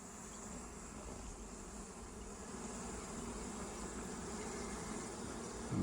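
Honey bees in an open hive during an inspection, a dense continuous buzzing drone, close and steady, growing slightly louder toward the end, with no talk.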